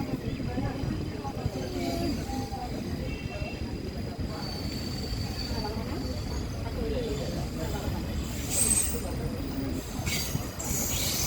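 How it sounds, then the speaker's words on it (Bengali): A moving passenger train rolls into Jalpaiguri Town station in India, heard from on board as a steady rumble of wheels and carriages with occasional high squeals, continuous and fairly loud, with faint insect chirps and voices in the background. "চলন্ত প্যাসেঞ্জার ট্রেন প্রবেশ করছে জলপাইগুড়ি টাউন স্টেশনে"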